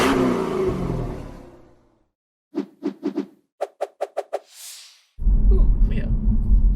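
Renault Megane RS Trophy with EDC gearbox, its engine blipping in a quick run of short sharp revs after a loud drive-by roar, then heavy engine noise again.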